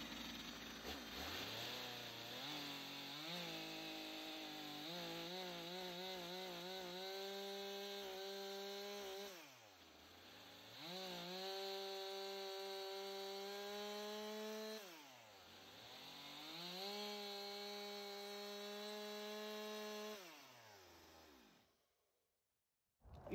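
A chainsaw cuts straight through a log for log cabin building, the engine revving up and bogging down in three long cutting passes with rising and falling pitch, loud and close, before cutting off at the end.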